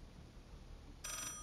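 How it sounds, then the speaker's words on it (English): Telephone in a church-side phone booth ringing inside the video game Call of Duty: Black Ops 6, a bright trilling ring bursting in suddenly near the end over low game ambience. "Ah, the telephone."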